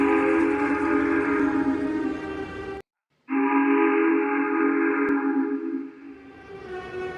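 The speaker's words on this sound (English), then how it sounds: "Suddenly, he and Percy heard a whistle from another engine, which was coming from the darkness ahead of them." A steam engine whistle sounds in darkness, a long, loud multi-tone blast that cuts off briefly, then returns as a second sustained blast that fades out near the end.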